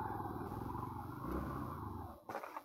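Motorcycle engine idling close by, a steady low rumble that carries on for about two seconds before cutting off, followed by a brief clatter.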